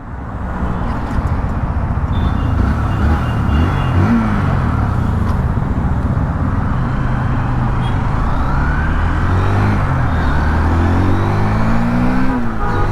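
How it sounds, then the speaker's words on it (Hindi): A Hero Xtreme 160R 4V sport motorcycle, 160cc, pulls away and accelerates along a highway. A loud, steady engine drone rises through rising and falling revs, with heavy wind rush all the way through. "तो चलो बाइक को स्टार्ट करते हैं।"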